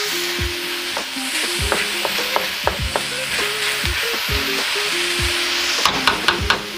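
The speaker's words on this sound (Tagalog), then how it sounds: "lutuin natin ang ating pork for 2 minutes" Pork sizzles in a pan for a Filipino laing dish, with a steady frying hiss under frequent knocks and scrapes of a utensil against the cookware and a cluster of quick taps near the end.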